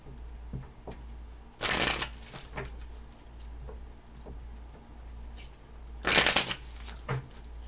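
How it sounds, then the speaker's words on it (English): Tarot cards being shuffled by hand, two sharp riffling bursts a few seconds apart with soft card handling and taps between them, close and otherwise quiet. "Two more shuffles"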